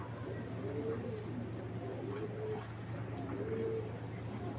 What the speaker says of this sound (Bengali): মাদি কবুতরটা